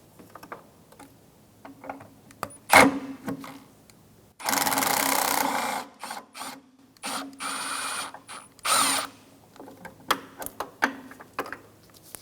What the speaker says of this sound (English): Loosen that bolt.